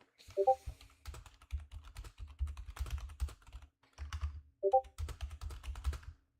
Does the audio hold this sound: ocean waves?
no